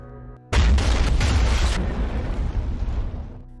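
A sudden loud explosion bursts out after a brief quiet moment, followed by a long rumbling roar that slowly fades.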